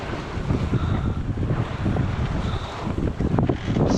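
A sailboat's foresail flaps and flogs as the boat turns up into the wind at sea to heave to. Continuous blustery wind buffets the microphone with a rushing, rumbling noise.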